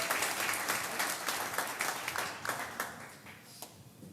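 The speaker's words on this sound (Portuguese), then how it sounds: "Vamos aplaudir o nosso Deus" A church congregation applauds in praise of God, a soft, crowded patter of clapping that runs steadily and then tapers off into scattered claps as it fades.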